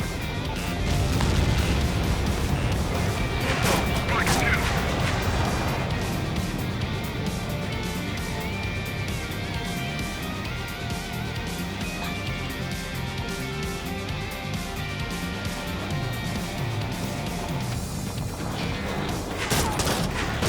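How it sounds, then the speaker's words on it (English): Bombs explode in the Ace Combat 7 combat flight game: rumbling booms and crashing blasts, loudest at the start, over a constant dense roar of jet and battle noise that continues throughout. "Target confirmed. Dropping the bomb now."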